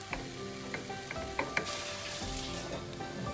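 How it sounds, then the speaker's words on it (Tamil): Squid sautéing in a pan for a dry roast, a steady close sizzle with a few sharp stirring clinks and scrapes of the spatula against the pan. "இது வதக்கி கொடுக்கணும்"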